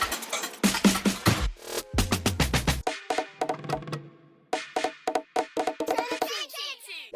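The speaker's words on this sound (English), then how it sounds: "So what I did next was to throw in some FXs and drum fills," Drill beat with FX sweeps and drum fills: rapid bursts of snare and percussion rolls, stuttering hits and swooshing effects over a deep bass, fairly busy and punchy throughout.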